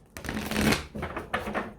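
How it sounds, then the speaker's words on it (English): Tarot cards are shuffled close up in quick riffling bursts, three rustling, slapping passes in a row, each flurry loud and papery, with no voice over them. "Join me while I shuffle."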